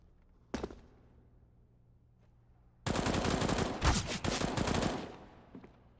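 FAMAS rifle fire in Counter-Strike on the Mirage map: a single sharp shot, a quiet pause, then a loud, dense burst of rapid automatic gunfire lasting about two seconds before tapering off.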